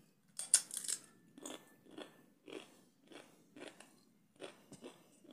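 Chili heatwave crisps crunched while eating, a series of sharp bites and chews spaced about half a second apart, close and fairly quiet with no talking.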